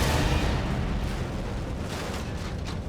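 Film stunt car explosion, a broad, loud roaring blast that starts at full strength and slowly rumbles and decays over about three seconds, with no voices over it.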